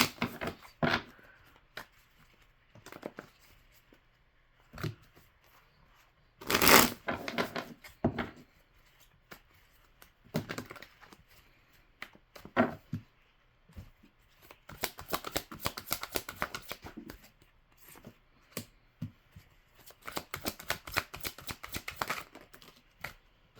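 Tarot cards are shuffled and riffled in repeated bursts of crisp flapping and snapping, close up, with quiet pauses between handling.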